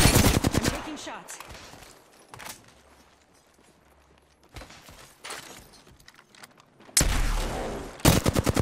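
Flatline rifle fire in a video game, heard as rapid bursts of automatic gunshots that start and stop several times, loud and close, ending with a heavy final volley.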